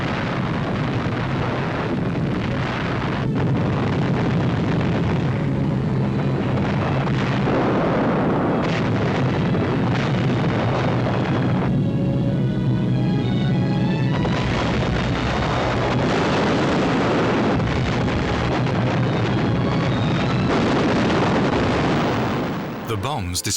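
Heavy bombers dropping 12,000-pound deep-penetration bombs on a mountain hideout and valley chalet, with loud rolling explosions, rumbling booms and engine drone in a sustained, dense barrage.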